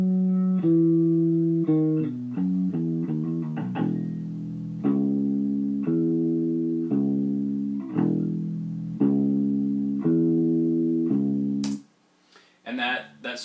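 Solo bass guitar line from a song, heard on its own: a rocking back-and-forth riff of deep, sustained notes with a few quick runs, loud and close, ending abruptly near the end.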